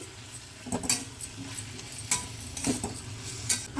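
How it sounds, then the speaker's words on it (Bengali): Spoon or spatula scraping and clinking against a pan as radish and mashed vegetables are stirred for a village-style radish and potato sabji, with irregular scrapes and taps at close range. "মূলোটা দিয়ে দিচ্ছি ভালো করে নেড়ে দিই"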